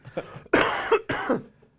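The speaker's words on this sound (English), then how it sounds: "I started coughing in the middle of it" Two sharp, close coughs in quick succession, alone with no speech around them.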